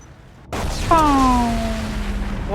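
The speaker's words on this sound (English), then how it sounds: "That was a big explosion." A big explosion goes off in the Mass Effect 2 video game: a sudden loud boom, followed by a long ringing, descending tone that slowly fades under continuing rumble.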